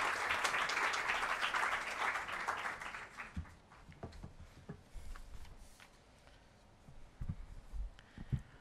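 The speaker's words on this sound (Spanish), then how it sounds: "Lo recibimos con un fuerte aplauso" Applause for a student from Panamá Oeste province at a national contest launch, dense and loud for about three seconds, then thinning into scattered claps and faint shuffling.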